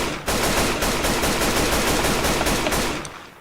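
Rapid automatic gunfire from a shooter video game rattles out in a dense, loud, continuous burst for about three seconds before cutting off, with no talking over it.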